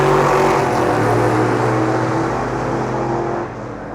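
Corvette C8 Z06 race cars roar past at Laguna Seca Raceway, a loud, continuous engine drone with shifting pitch that stays close and steady before easing slightly at the end.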